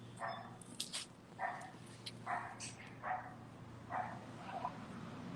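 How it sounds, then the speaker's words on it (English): Dogs bark in the background indoors, about seven distinct single barks spaced roughly every half to one second, faint and distant over a low steady hum. "And my dogs are barking in the background."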